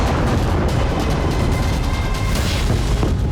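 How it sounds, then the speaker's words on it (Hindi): Explosion from an Israeli strike on Lebanon, a loud sustained roar of blast and rumble filling the whole clip with dense low-end energy and no distinct separate impacts. "पहला धमाका"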